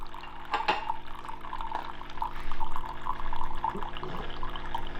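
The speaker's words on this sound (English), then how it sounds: "So what are we on? Yeah, filling up with water." Water trickles and drips steadily into the tank of a novelty coffee machine as it fills, a faint close-up liquid flow with small splashes and a low mechanical hum beneath.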